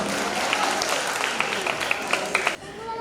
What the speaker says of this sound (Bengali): ওদের জন্য আরো একবার জোরে একটা হাততালি চেয়ে নেবো